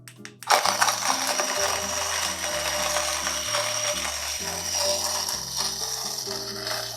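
A CF Wisdom coffee grinder crunches through a small dose of coffee beans, starting abruptly after a brief pause and continuing as a steady, loud, ratcheting grind up close throughout.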